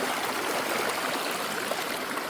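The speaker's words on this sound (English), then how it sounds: "to get back to our trail, we have to do a slightly small water crossing." A small stream rushes steadily over mossy rocks at a trail water crossing in a North Carolina forest on the Appalachian Trail, a continuous, close, broadband wash of flowing water with no talking.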